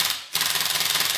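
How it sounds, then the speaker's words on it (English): A Lego tank toy's electronic machine gun effect plays up close and loud, a rapid steady rattle of repeated bursts after a short gap. "The well-known machine gun with the light effect and the very nice sound"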